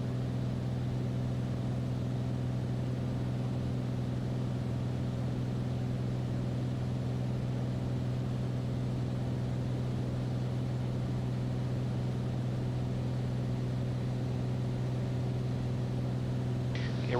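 A small aircraft engine hums steadily from inside the cockpit during descent on an ILS approach at Astoria, Oregon, as the power is eased back gradually; a constant, even drone with no talking.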